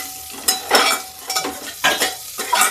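Chopped onion tossed into hot oil with crackling cumin seeds for a mung and masoor dal breakfast dish, giving bursts of loud sizzling with stirring and clinks of a spoon against the pan, no talking.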